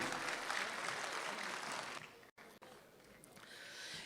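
Applause from an audience at a mushaira and kavi sammelan, welcoming the poet Dr. Nawaz Deobandi to the stage; sustained dense clapping that breaks off in two short silent gaps and then resumes more softly.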